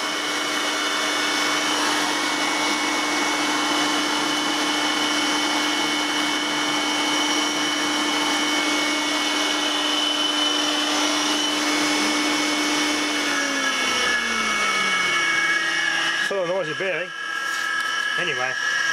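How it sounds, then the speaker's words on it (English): An electric motor runs steadily on a variable frequency drive at full power, a loud constant whine with strong tonal hum that drops in pitch near the end as it winds down, followed by brief clatter. "So that drive gives it its full power to run that motor at maximum torque"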